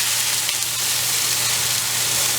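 Beef stock hits a hot pan to deglaze it, giving a loud, steady broadband sizzle and hiss that holds evenly from start to finish with no voices.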